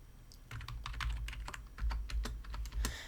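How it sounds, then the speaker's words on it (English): Computer keyboard typing in a quiet hair salon before a haircut, a run of soft, close keystrokes in an uneven rhythm, faint and unaccompanied by talk. "Just typing in a few things about what we're gonna do today."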